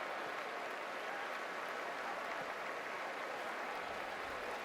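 A football stadium crowd at a Louisville Cardinals versus NC State Wolfpack game applauds an injured player, a steady, distant wash of clapping that holds without pause.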